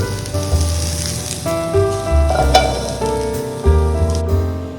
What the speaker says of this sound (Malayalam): നമുക്ക് ഈ പാൻ മാറ്റിയിട്ട് വേറൊരു പാനിലോട്ട് നമുക്ക് കക്ക ഇറച്ചി ഒന്ന് ഫ്രൈ ചെയ്യാം